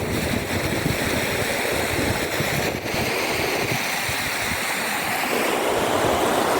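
River water rushing past near a bridge and rocks, a loud continuous close roar and hiss with some wind buffeting on the microphone.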